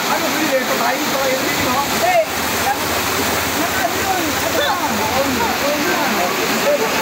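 Rushing water roars continuously, a turbulent torrent with splashing and gurgling, while voices speak faintly beneath it.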